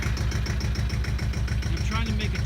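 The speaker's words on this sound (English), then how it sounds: "So I'm on the tractor." A tractor engine runs steadily nearby with a rapid, even chugging pulse, loud and constant, while someone speaks over it.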